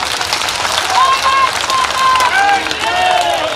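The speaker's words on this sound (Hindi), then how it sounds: "जोरदार ताली बजाकर उनका स्वागत करें" Crowd at an election rally clapping loudly to welcome a candidate, dense sustained applause with cheering, and tonal sounds ringing over it.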